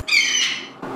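A bird squawks in GTA 5, a single loud, shrill, drawn-out screech lasting most of a second and then cut off abruptly, with no speech.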